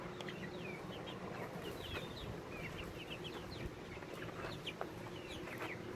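Chickens cluck in their outdoor yard, with many short chirps and clucks from several birds overlapping at a moderate distance, continuous and alone without talk.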